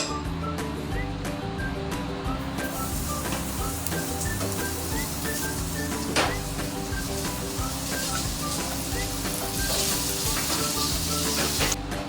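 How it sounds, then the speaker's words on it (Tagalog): Garlic and onion sizzle steadily in a hot pan, a continuous close frying hiss with faint stirring clicks throughout and no talking. "Ngayon naman ay ilalagay na natin ang bawang at sibuyas at hintayin medyo maging maluto."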